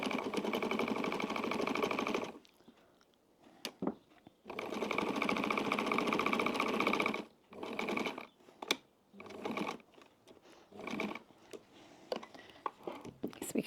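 A 70-year-old Pfaff sewing machine stitching a wallet, with long runs of rapid mechanical clatter broken by pauses, clicks and short bursts, heard up close.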